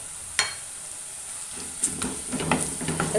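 Chili, coriander and turmeric powder sauté in a pan for a Kanambu fish curry with raw mango, a gentle sizzle broken by light stirring scrapes close by.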